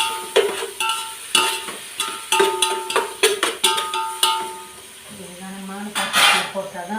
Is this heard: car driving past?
no